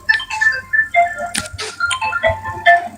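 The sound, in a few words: phone ringtone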